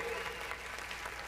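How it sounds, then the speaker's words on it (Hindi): An audience at a live dance competition claps in a brief, steady wash of applause that sounds fairly quiet and somewhat distant. "ताली बजा के अपन स्वागत करो।"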